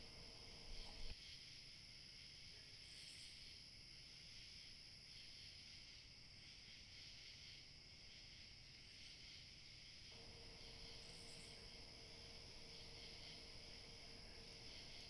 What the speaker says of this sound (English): Crickets drone softly through the open window.